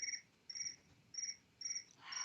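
Crickets chirp in short regular bursts, about five trills with brief pauses between, steady and clear against a quiet background.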